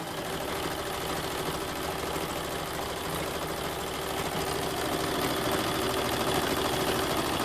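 A sewing machine stitches along the side seam of a fabric tote bag, giving a steady, continuous mechanical whir and hum that runs unbroken through the whole stretch at close range.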